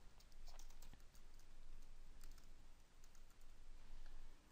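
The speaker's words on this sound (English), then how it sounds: "I'm just going to type that in for now" Keys clatter on a computer keyboard in quick, irregular bursts of soft clicks, faint and close, with no voices.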